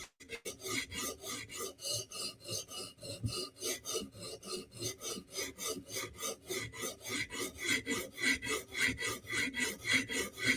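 Steel knife edge drawn repeatedly across a sharpening stone to remove a burr and apex one side, a close, steady rasping scrape in quick regular strokes with no talking.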